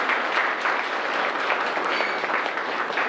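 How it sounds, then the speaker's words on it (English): An audience at a law college degree distribution ceremony applauds, a full, continuous round of clapping from a large crowd, evenly sustained and close, with no voices over it. "Can we have a huge round of applause for everyone who's present here?"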